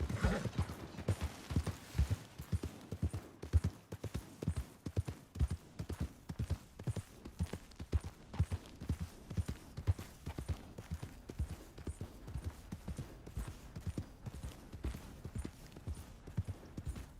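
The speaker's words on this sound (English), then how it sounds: "Hey! My horse!" Horse hooves clip-clop in a steady trotting rhythm in Red Dead Redemption 2, quiet and continuous, with faint mechanical rattling in the background.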